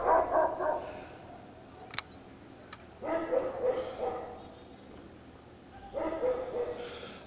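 Dogs bark in several short bursts, a cluster at the start and more around the middle and end, moderately distant with a quiet outdoor background.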